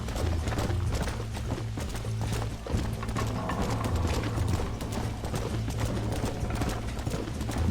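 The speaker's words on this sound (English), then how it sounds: "Horse is glitching out a little bit." Horse hooves clip-clop steadily in Red Dead Redemption (2010), a continuous rhythmic trot over low game music and ambient rumble, with no talk.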